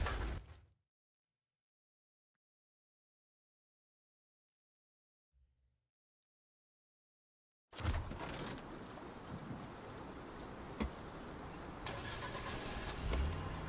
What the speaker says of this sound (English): let me know if this engine is like absurdly loud or not